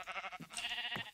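A blocky Minecraft sheep from the FTB Unstable modpack lets out a series of wavering bleats, loud and close, with a brief pause partway through before a final short bleat.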